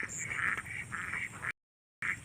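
Free-roaming domestic ducks in a rural Filipino yard quack in a busy, overlapping chorus at close range, with a brief cut to silence before the quacking resumes.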